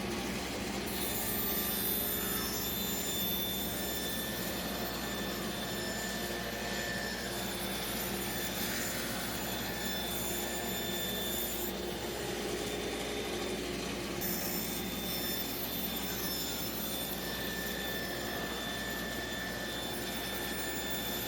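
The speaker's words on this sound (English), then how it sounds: "Put your dust collector on." A dust collector roars in a workshop while wood strips are cut on a table saw, a loud, steady whooshing drone that fills the whole stretch with only slight shifts in tone.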